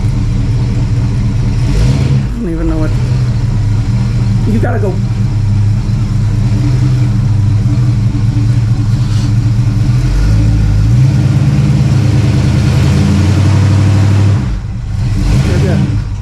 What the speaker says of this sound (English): let me go ahead and move my truck out of the way and then bring the car around.